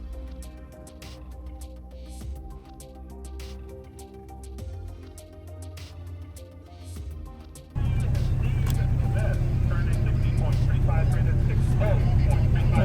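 Porsche 718 Cayman with a newly fitted front sway bar, heard from the cabin on a test drive: a low, steady engine hum that suddenly swells into a much louder roar partway through.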